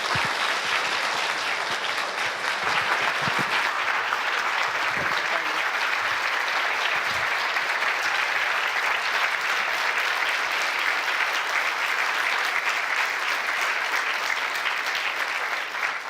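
A lecture audience claps for Professor Hayward as she takes the stage, and the applause stays dense and steady for about sixteen seconds without fading.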